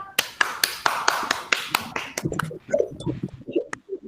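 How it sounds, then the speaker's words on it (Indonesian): A run of sharp hand claps, fairly close and quick, loosens into a more scattered patter before fading out. "Tepuk tangan dulu buat kelompok Rehan lah."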